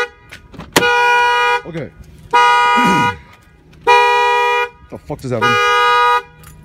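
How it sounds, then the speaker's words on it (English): A car alarm blares in repeating bursts, four long wailing tones with short pauses between them. It sounds loud and close, and someone speaks briefly in the gaps. "why did my car alarm just go off?"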